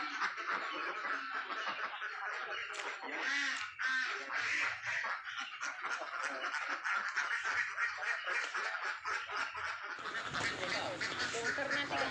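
Free-ranging herded ducks from a flock of about a thousand meat birds foraging in rice paddies, with dense overlapping quacks from many birds, close and steady throughout, under a murmur of voices.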